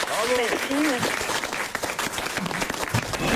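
A studio audience on a French radio comedy show applauds steadily, the clapping dense and close while a presenter's voice talks over its opening moments.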